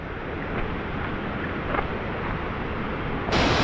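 A steady, full roar of the Susarundi waterfall near Guhagar rushes on without pause, broad and constant, with no voices over it.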